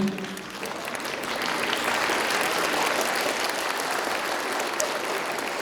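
A concert hall audience gives sustained, loud applause for a nine-year-old violinist, the dense clapping steady and even from start to finish.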